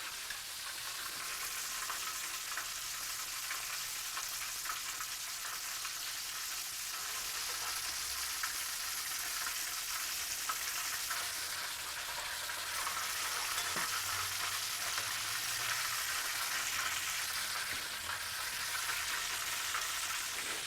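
Catfish pieces deep-frying in a pan of hot oil, giving a steady, dense sizzle and crackle that runs unbroken and fairly close, with faint clinks now and then and no talking.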